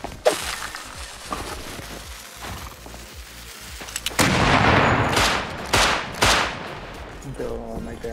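Gunfire in the video game Rust: quiet scattered shots, then loud rapid bursts of automatic fire that stop and start in separate volleys before tailing off.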